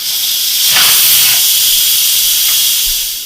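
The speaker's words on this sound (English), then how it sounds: "So let's release the pressure." An Instant Pot cooking steak tips vents its pressure with a loud, continuous jet of steam hissing close up, swelling in the first second and holding steady before tapering slightly at the end.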